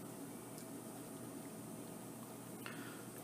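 Pasta simmering in a pot on the stove, a steady low bubbling hiss that runs continuously and quietly with no talk.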